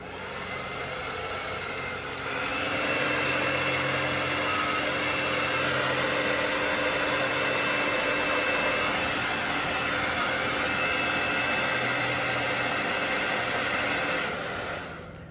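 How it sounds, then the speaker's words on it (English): A handheld blow dryer roars in a steady, loud whoosh aimed at a small homemade wind turbine, switching on after a couple of seconds and running continuously before cutting off near the end. "And then I'm going to test it out with my blow dryer."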